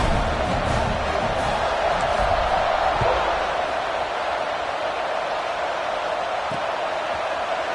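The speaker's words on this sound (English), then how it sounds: "this crowd is buzzing after that last score" Football stadium crowd buzzing after a score during a game, a steady broad roar of many voices held at an even level throughout, with faint scattered thumps.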